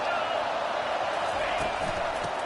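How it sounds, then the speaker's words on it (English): Steady, loud crowd noise fills a Madden football video game stadium, a dense unbroken roar with faint claps and thumps mixed in as the fans build up before a second-down play. "this crowd is turning it up a notch"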